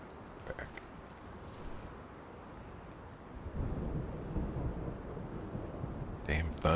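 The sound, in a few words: thunder in the video game The Division 2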